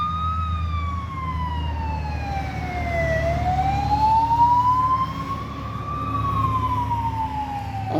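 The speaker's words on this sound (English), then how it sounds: "This ambulance pass here." An ambulance siren wails in slow rising and falling sweeps as it passes close by, loud and continuous over a low rumble of traffic.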